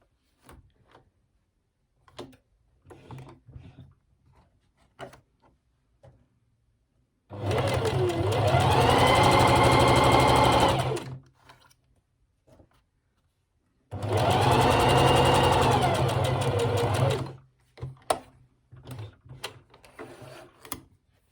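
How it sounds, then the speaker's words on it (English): A sewing machine stitches along the bottom edge of a polka dot dress in two steady bursts of a few seconds each, loud and close, separated by quiet handling noises. "So I'm just going to sew along this bottom edge here."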